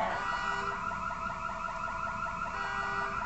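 A car alarm wails continuously with a cycling, warbling electronic tone, steady and fairly loud throughout, with no one talking.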